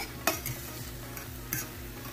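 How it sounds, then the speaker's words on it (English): Food is being stirred in a pan on the stove. A soft background sizzle runs throughout, broken by two brief spoon scrapes, all fairly quiet. "Just keep stirring."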